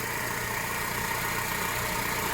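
A Honda Civic engine with an oil leak idles steadily, a constant low rumble and broadband hiss, no revving or changes throughout.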